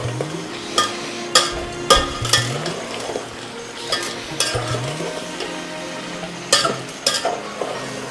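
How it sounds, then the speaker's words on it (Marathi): Chutney being sautéed in a pan for a village-style chicken curry cooked on a wood-fired stove: a spoon stirs and scrapes with repeated metallic clinks over a low, steady sizzle, loud and close, with no talking. "चटणी टाकणार आहोत आपण आता दोनच चमचे टाकायचे ती छान परतून घ्यायचे"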